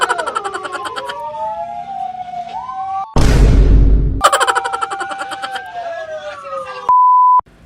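A fire truck siren wails and yelps loudly nearby, sweeping up and down, broken by a burst of loud noise in the middle, with a steady electronic tone near the end.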